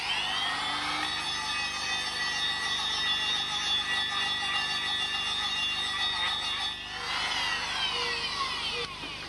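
A cutter trims a valve seat insert on a K16 cylinder head: a loud, steady high-pitched whine of the spinning tool with a brief dip and restart near the end.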